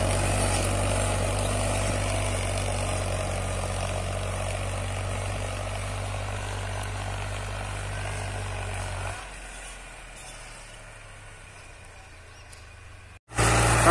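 A Powertrac 439 Plus DS tractor pulls a harrow through wet soil. Its engine drones loud and steady with a deep hum, then drops to a softer level partway through before a sudden loud burst at the close.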